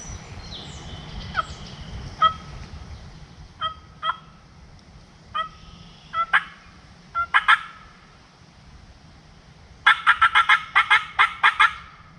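Repeated wild turkey gobbles in a Michigan field, a dozen or so loud bursts spaced irregularly, with a rapid, dense cluster of calls toward the end, heard alone over a faint low rumble.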